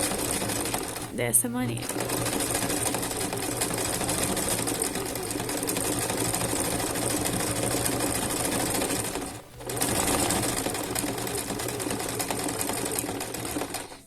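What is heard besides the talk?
sewing machine zigzag stitching fabric lining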